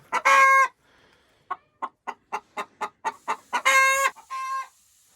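A hen squawks loudly, then clucks in a steady run of about ten sharp, evenly spaced notes before breaking into louder squawks again. Close and clear.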